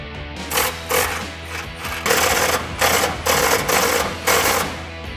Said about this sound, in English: we were actually able to use my cordless impact for this last one.